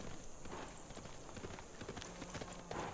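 Horse unit hooves in the video game Civilization VI trot as a quiet, steady clip-clop under a faint background bed.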